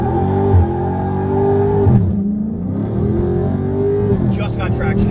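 A car launches hard on a traction run, its engine roaring loudly and climbing in pitch, dropping briefly at a shift around two seconds before rising again close by.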